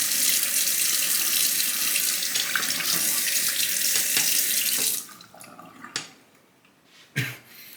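Straight razor blade rinsed under a running tap: a loud, steady rush of faucet water for about five seconds, then the flow stops, leaving a few faint clinks and drips close by.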